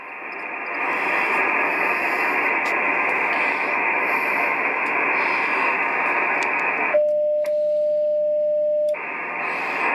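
Ten-metre HF radio on 28.435 MHz playing through a speaker a few feet away: a steady band of static hiss interrupted near the end by a short tone and brief drop-out before the noise returns.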